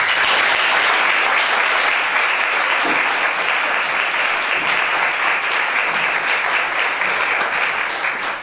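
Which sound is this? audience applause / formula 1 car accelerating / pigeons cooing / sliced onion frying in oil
audience applause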